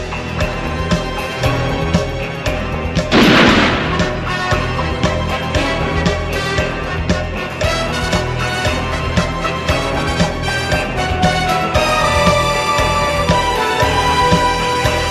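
A film theme reimagined in another composer's style for the Roger Moore era: full orchestral score with brass, strings and percussion, loud and continuous, with a cymbal swell early on.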